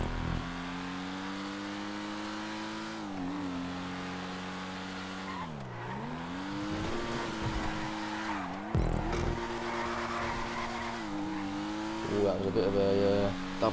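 Ubermacht Revolter car in Grand Theft Auto 5, engine droning at steady revs then blipping up and down with quick throttle flicks between gear changes, tyres squealing briefly near the end, moderately loud with faint talk.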